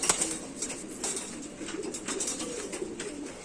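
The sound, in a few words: pigeon cooing and flapping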